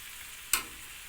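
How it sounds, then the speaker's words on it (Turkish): A faint, steady sizzle of beef and onions sautéing in a pan, broken once by a brief sharp clink partway through. "Yine beraber kavuracağız."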